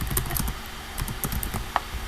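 Someone types a domain name on a computer keyboard, a run of quick, light key clicks at an uneven rhythm with one sharper tap near the end, quiet and close with no talking.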